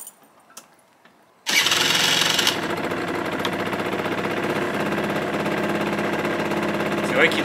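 A moped engine catches and fires up after a quiet start, loud and close. It kicks from near silence into a roaring rev that settles into a steady, buzzing idle that runs on.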